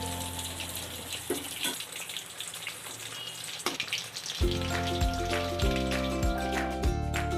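Bhetki fish fillets for butter fish fry sizzle steadily in a pan over a low to medium flame, a dense crackling hiss that continues as sustained musical tones enter partway through.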